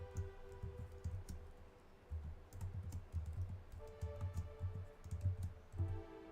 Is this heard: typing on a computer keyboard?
yes